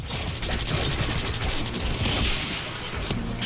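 Gunfire in the video game Quantum Break comes as a dense, loud, steady barrage of shots and impacts filling the whole stretch, with no talking.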